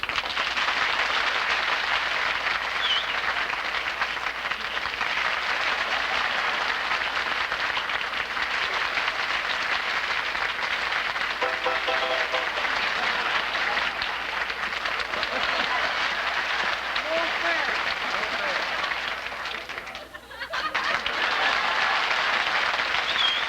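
Long steady applause from a radio show audience rating jam session contestants, a broad even roar of clapping that holds for over twenty seconds, dipping only briefly near the end.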